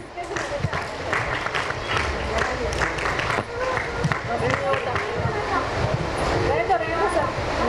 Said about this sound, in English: give a huge round of applause for our beloved teachers